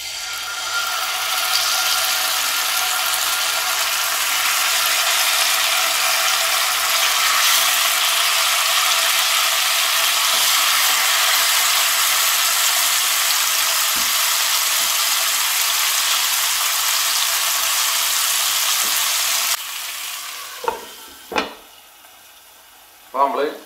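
Chicken shashlik skewers fry in an oiled pan over a medium flame, giving a loud, steady hiss for about twenty seconds. The sizzle then drops away, and a few clanks and knocks follow.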